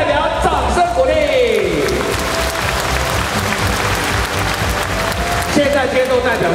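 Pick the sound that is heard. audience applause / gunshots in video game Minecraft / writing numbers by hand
audience applause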